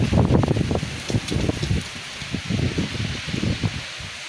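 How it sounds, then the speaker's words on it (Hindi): Strong gusty wind blows ahead of a storm, buffeting the microphone in close, loud rumbling bursts with rustling leaves, easing briefly in the middle before gusting again. "बहुत ज़्यादा हवा चल रही है"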